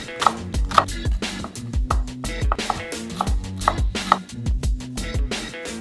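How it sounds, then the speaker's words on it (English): Onion is diced with a knife on a cutting board in quick, sharp chopping knocks that come in uneven bursts, close and clear with brief pauses between runs. "You can just flatten and then cut in really fine"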